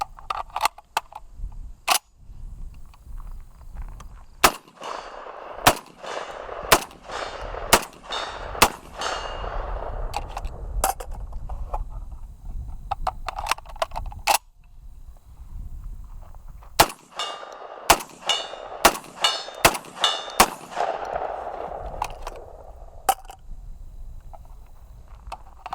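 Hatsan Escort DF12 AR-style shotgun firing slugs outdoors, a series of sharp, loud single shots spaced irregularly in two clusters, each blast followed by a ringing outdoor echo and tail.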